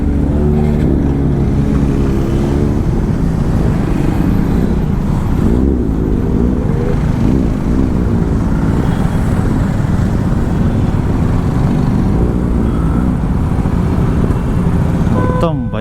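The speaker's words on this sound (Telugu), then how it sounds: "ఏం సౌండ్ ఉంది అసలు ఆ బండి" Motorcycles on a large group ride of 150+ bikers, including what is thought to be a Ninja H2R, with loud, continuous engine roar and rising revs throughout, heard close and dense.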